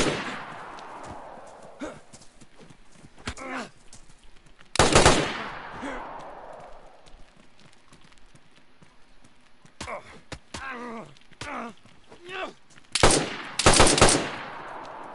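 Gunfire in a video game: scattered sharp cracks and a couple of loud, close rapid bursts, broken by stretches of quieter game noise, with people talking in between.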